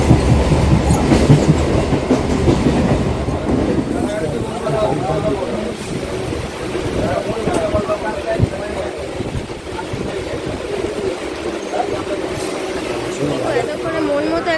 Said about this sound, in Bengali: একটা ট্রেন অলরেডি আপ লাইনে চলে গেছে